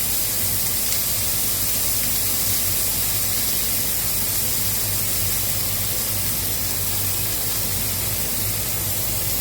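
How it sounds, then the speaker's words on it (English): A bone-in ribeye steak sears in a hot pan on a stovetop, giving a steady, loud, unbroken sizzle and hiss that continues evenly throughout without talk. "We're going to let that sear for roughly 3 minutes."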